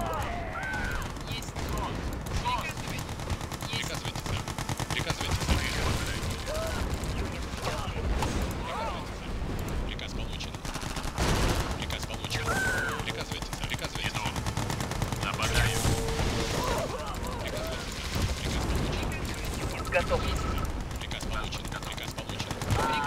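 Battle in the video game Command & Conquer Red Alert 2 Yuri's Revenge, with bursts of gunfire, machine-gun rattles and explosions going on continuously while someone talks over the game.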